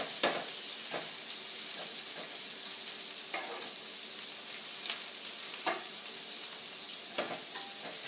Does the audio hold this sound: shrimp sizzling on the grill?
yes